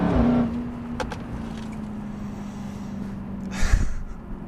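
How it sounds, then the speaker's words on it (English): A 2017 Dodge Charger Hellcat pulls hard in third gear, a steady engine drone heard from inside the cabin with a brief louder surge near the end. "A little third gear pull here."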